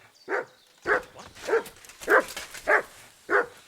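The dog Mutt barks in the medieval world of Kingdom Come: Deliverance 2, six evenly spaced, mid-pitched woofs at close range with no talk.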